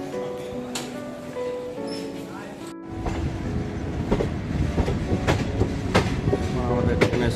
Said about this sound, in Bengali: আমাদের ট্রেন এসে পৌঁছলো ভুবনেশ্বর স্টেশন।